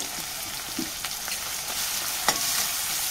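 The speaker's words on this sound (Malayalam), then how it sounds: "നല്ലപോലെ നമുക്ക് ഇതൊന്ന് വഴറ്റിയെടുക്കാം." Crushed onion, shallots, garlic and curry leaves sizzle steadily in hot oil in a pan, a close, even frying hiss with a few soft stirring clicks and no voices.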